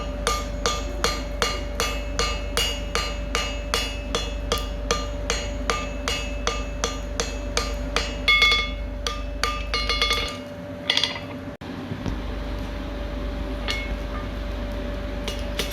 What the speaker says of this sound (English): and then I set down the rivet on the other side